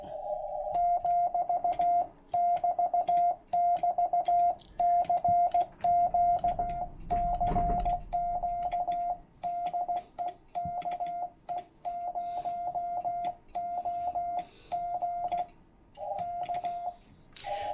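Radio Morse code sent with iambic paddles: a steady mid-pitched tone keyed on and off in short and long beeps, with faint static and a brief crackle midway.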